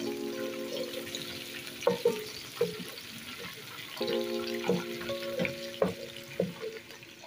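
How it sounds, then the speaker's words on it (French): Meatballs browning lightly in oil for a bolognese sauce give soft, faint sizzling and frying, punctuated by clinks of a utensil and pan, in a quiet kitchen. "nos boulettes sont en train de dorer légèrement"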